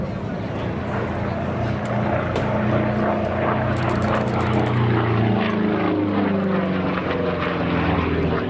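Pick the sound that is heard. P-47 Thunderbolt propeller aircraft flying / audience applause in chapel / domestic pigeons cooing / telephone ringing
P-47 Thunderbolt propeller aircraft flying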